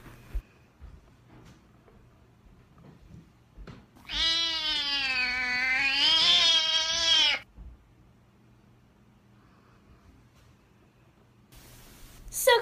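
A single drawn-out domestic cat meow, loud and close with a rising-then-falling harmonic wail lasting about three seconds, set against a quiet room with faint background noise and a brief noise burst at the end.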